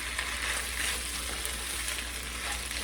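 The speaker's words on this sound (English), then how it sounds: "So stir it around to coat the rice with everything else" Rice and ground beef stirred in a skillet, an even, steady sizzle with soft scraping, close and continuous without talk.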